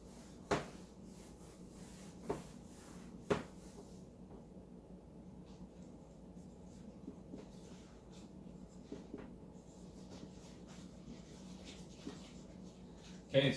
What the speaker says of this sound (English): So I'll just write that up here.